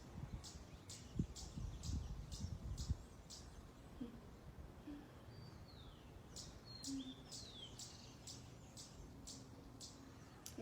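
Faint outdoor ambience with scattered birds chirping and a few short whistled calls, low rumbling noise early on, no voices.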